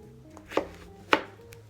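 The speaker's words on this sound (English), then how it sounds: "We're going to get a knife and carefully cut the lemon." A knife cuts through a lemon on a board, with two sharp, close chopping knocks about half a second apart in an otherwise quiet kitchen.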